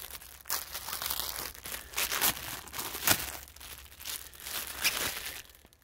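Plastic packaging being torn open around a Dollar Tree PVA chamois towel, close crinkling and crackling bursts with irregular rips and pauses, fading toward the end, no talk.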